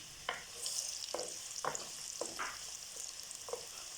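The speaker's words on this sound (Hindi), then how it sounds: "प्याज हम फ्राई करेंगे, फिर बाकी मसाले डालेंगे।" Onions frying in hot oil for a matar keema, a steady high sizzling hiss broken by a few scraping stir strokes spread across the moment.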